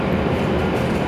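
Steady rumble of a Hakutaka limited express train pulling away from Kaga-Onsen Station, Japan, a continuous close mechanical drone with no breaks.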